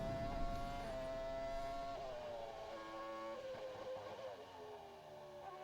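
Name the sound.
F1 car engine hitting the rev limiter, video game F1 22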